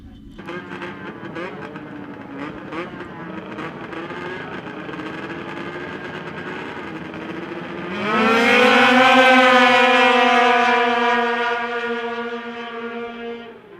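Pro Formula 500 racing snowmobiles, including an 1989 Polaris, at a Canadian power toboggan championship heat roar up together at the start, a loud rising engine whine that swells at the launch and then slowly fades as the pack moves away.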